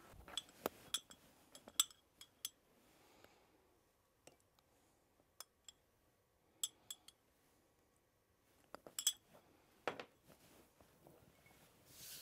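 A bar spoon stirring a Dirty Tequila cocktail in a glass, giving a run of bright clinks and ticks against the glass in loose clusters, close and clear over a quiet background.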